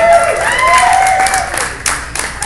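An audience at a social media event gives brief, light applause while a high, whistle-like tone and a few cheers sound close over the scattered clapping, which fades within about two seconds.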